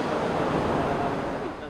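A strong water current near a river's rocks, a dense continuous rushing roar, loud and close with no pauses.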